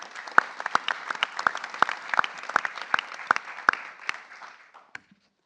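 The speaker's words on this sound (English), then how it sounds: "let's give Charisma a warm round of applause" An indoor audience at a pitch contest gives a team a warm round of applause, a steady patter of many hands with a few sharp close claps standing out, fading out after about five seconds.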